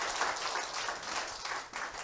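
An indoor seminar audience bursts into applause, dense overlapping hand claps sustained throughout at a moderately close, steady level with no voices.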